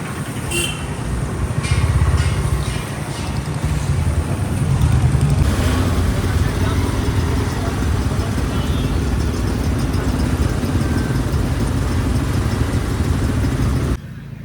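A vehicle engine runs with a steady, continuous low drone at close range, holding an even level throughout before cutting off near the end.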